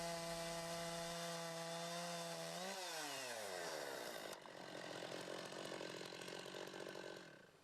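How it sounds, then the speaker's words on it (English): A chainsaw on a Logosol chainsaw mill runs steadily at high revs, its pitch dropping as it bites into a log and keeps cutting, loud and close. "When you're getting near the centre, you turn the log and start sawing from the other side."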